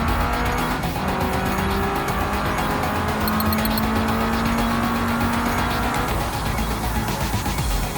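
A car engine revs hard and its tires squeal through a corner in the BeamNG.drive driving simulator, loud and sustained, with a shift in engine tone near the end.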